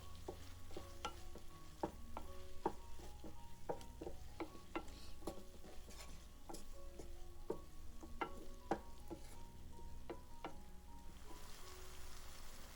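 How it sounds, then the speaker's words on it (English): Kung Pao chicken with green onions stir-fried in a pan, with a steady sizzle under repeated rhythmic scrapes and clinks of a utensil against the wok, close and moderately quiet. "Stir and let it cook for another 2 to 3 minutes."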